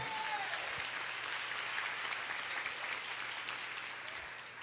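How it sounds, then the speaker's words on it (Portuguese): A church congregation applauds, a continuous even patter of many hands that stays moderately loud before tapering slightly toward the end, with no voices standing out. "Então pode aplaudir."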